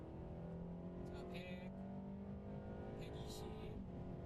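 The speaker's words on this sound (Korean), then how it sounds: "엔진 소리가 달라요 일단" A BMW car engine on a driving course at the BMW Driving Center, heard from inside as it accelerates under full throttle with a steady rising drone, while someone talks over it.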